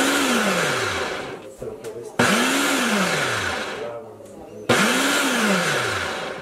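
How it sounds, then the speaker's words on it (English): A blender chopping cauliflower whirs in three short pulses, each starting with a sharp rise in motor pitch that then slowly drops, loud and close. "I needed this one to chop up the cauliflower"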